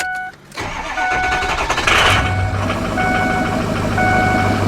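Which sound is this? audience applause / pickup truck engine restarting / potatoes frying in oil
pickup truck engine restarting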